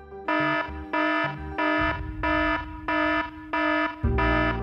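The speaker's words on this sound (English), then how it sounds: "another alarm." A cockpit alarm from the engine indicating and crew alerting system on Air Canada Flight 143 sounds as a series of seven evenly spaced electronic tone bursts, loud and close, with no talking.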